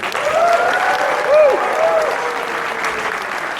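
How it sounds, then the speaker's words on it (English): Applause from the crowd at the Hasbro Marvel panel at San Diego Comic-Con 2018 fills a large hall, a broad even wash of clapping with faint tonal echoes, swelling briefly mid-way before easing. "how about another round of applause for everybody in here"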